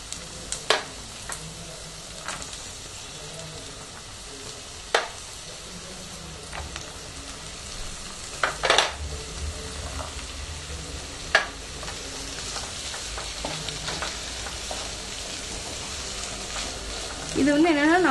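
Mixed vegetables with green peas sizzle steadily in a pan with fried ginger-garlic paste for a South Indian kurma, with intermittent scraping and clattering stirs over the continuous frying hiss.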